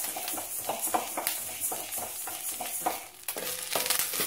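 Curry leaves and spices roasting in a little oil in a pan for homemade curry chili powder, a soft sizzle under repeated rhythmic scraping strokes of a spoon, close and fairly quiet.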